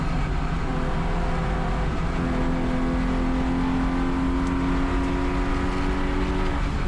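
Touring cars drag race up the hill at Sonoma Raceway in a USTCC round, engines droning steadily loud with rising pitch throughout and no pauses.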